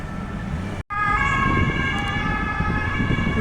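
A police siren wails steadily, loud and nearby, over road traffic noise, with a brief cut-out near the start.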